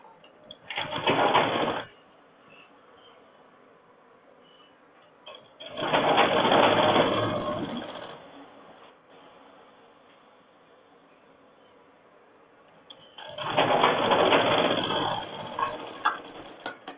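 A sewing machine stitches a gents shirt in three separate bursts of steady, fast running, with quiet pauses between them and no talk.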